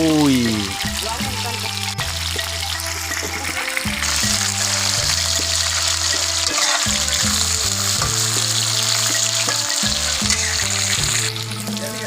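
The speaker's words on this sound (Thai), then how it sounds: "ทอดเห็ดโคนนี่" Termite mushrooms fry in a pan of oil with a loud, dense, continuous sizzle that holds steady throughout, while a background tone in a repeating pattern runs underneath.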